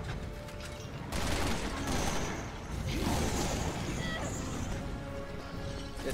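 Gunfire in Resident Evil 6 bursts out in loud, dense volleys of shots, mixed with crashes and game effects, and the clip is busy from start to finish.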